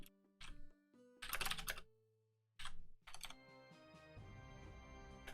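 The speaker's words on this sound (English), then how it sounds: "Are you typing or no?" Fingers type on a computer keyboard in quick clustered bursts of clicking keystrokes separated by short pauses, close and clear, with no talk.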